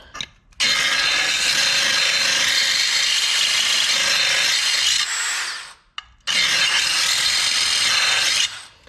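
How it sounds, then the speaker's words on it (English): A power drill grinds loudly against a metal lawnmower blade while sharpening it, in two long, steady bursts, the second starting after a short pause. "you have a drill, and you just turn it on and go back and forth until it's sharpened"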